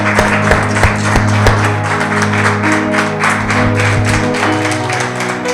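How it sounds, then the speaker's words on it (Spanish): Church congregation clapping together in a steady, rhythmic burst, loud and close, with a tonal musical backdrop sustained underneath. "Dale un aplauso a Jesús."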